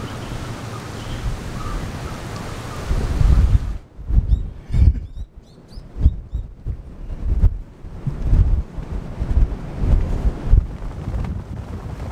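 Strong wind buffets the microphone in loud gusts at a lighthouse in Nagasaki Prefecture, Japan, rising and falling over a low rumble, with brief lulls between blasts.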